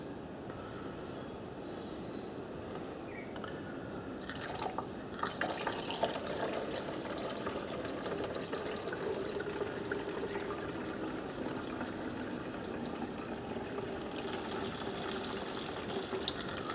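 Fuel pours from a post hole digger's tank through a funnel into a container, a continuous liquid trickle and gurgle close by, steady throughout with faint clinks and no talking.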